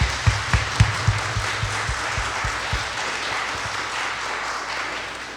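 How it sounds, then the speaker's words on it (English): A room of people applauds, with a few sharp nearby claps standing out at first before the clapping settles into a steady, fading patter. "let's give a round of applause to our participants"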